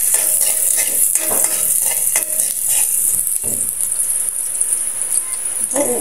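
Onion and garlic sizzle steadily in hot cooking oil for a Filipino sautéed string bean dish, a constant bright hiss with occasional stirring clatter and brief speech mixed in.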